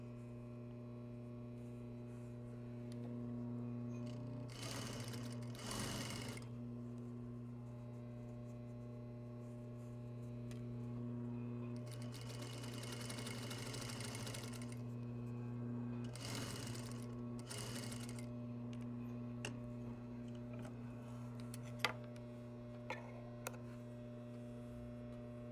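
A sewing machine stitches a seam with bias binding on a garment, running in several steady bursts over a constant low mains hum, with short pauses between runs and a few small ticks near the end.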